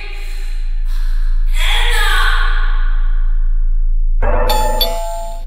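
A doorbell rings in the animated series ENA, a single clear ding-dong chime that sounds once, followed by a sigh-like tone and music, with no talk over it.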